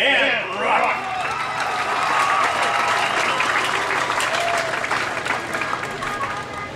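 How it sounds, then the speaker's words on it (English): A school crowd at a fall homecoming pep assembly applauds loudly and continuously, with cheering mixed in, as the clapping swells and fills the gym. "Hey kids, let's hear it for Cody and Brooke"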